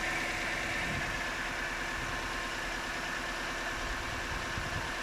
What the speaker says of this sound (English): the 1 litre twin cam 16 valve Nissan engine